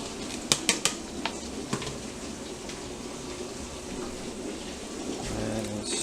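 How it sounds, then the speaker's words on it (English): Chopped carrots are dropped into a pot of vegan chicken noodle soup, giving a few sharp clinks and clatters near the start, then a softer rattle and simmer in a kitchen. "Add in my carrots."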